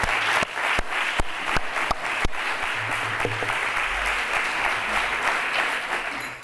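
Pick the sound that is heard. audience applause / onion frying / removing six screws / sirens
audience applause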